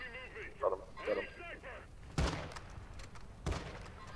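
Gunshots in a video game sound as two sharp, booming bangs about a second apart after a stretch of voice-like talk, moderately loud under the game's background noise.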